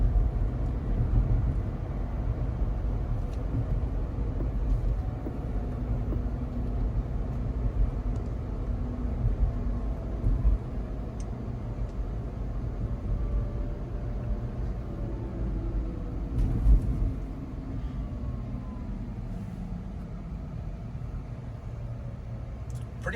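A Rivian R1T electric pickup truck cruises along, with a steady low road and tire rumble inside the cabin, faint whining tones and occasional soft bumps, no engine roar.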